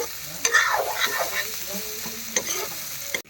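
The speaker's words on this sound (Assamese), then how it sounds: "ধুনীয়াকৈ ফ্ৰাই কৰি আছোঁ মাংসটো।" Pieces of pork are stir-fried in a pan, giving a continuous near sizzle with scraping stirs and a few louder spatula knocks.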